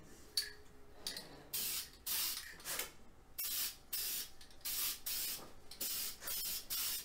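Short bursts of spray paint hiss as a fog coat of primer goes onto Honda CBX motorcycle parts, about seven close, loud bursts with brief gaps between them.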